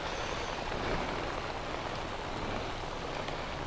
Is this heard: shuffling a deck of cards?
no